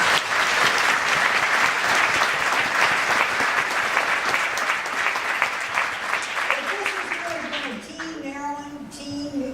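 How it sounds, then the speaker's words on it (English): Sustained, dense applause from a large audience packed into a room at a school ribbon-cutting ceremony in East Baltimore, loud and steady for several seconds before thinning out as a voice begins speaking near the end. "I think we ought to give him a round of applause."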